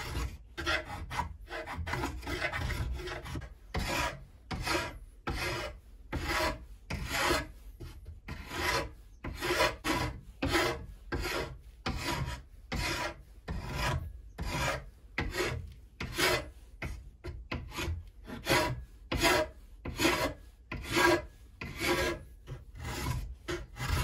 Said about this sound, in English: This Lansky puck, it ain't good enough for sharpening. Oh, draw knives.